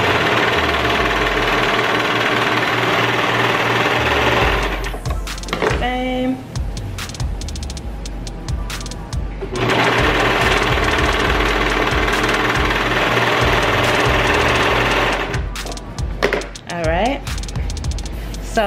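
A serger runs at speed finishing the fabric edges of a cloth face mask, a loud close mechanical whirring in two long bursts with brief stops and fabric handling between them.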